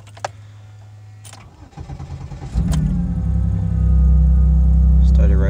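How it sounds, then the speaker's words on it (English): A Chevrolet Impala engine cranks with a rough starter churn for about a second, catches, and settles into a loud steady idle close by. "Let's go ahead and see if it'll crank over."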